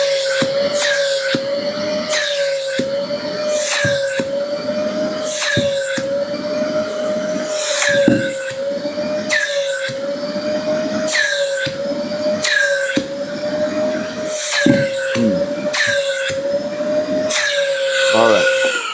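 A Makita vacuum runs at maximum suction, giving a loud, steady motor whine over broadband airflow rush, with repeated short squeaky bursts throughout.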